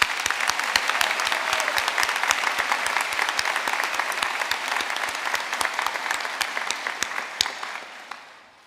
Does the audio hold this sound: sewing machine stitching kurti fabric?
no